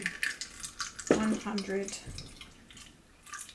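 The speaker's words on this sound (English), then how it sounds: "I'm pouring developer into this container" Film developer is poured into a container, a trickling, splashing stream of liquid heard under a person talking.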